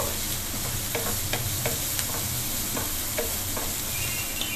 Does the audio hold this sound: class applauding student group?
no